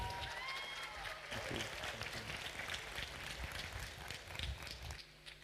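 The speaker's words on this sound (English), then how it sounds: "A big round of applause for him" An event audience applauds a speaker being welcomed to the stage, a dense sustained clapping of a large crowd that fades near the end, with faint voices mixed in.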